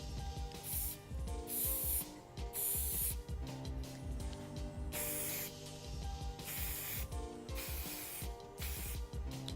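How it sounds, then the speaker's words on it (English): Several short hissing bursts of hairspray misting, repeated at irregular intervals over background music. "we're going to spray a little bit through"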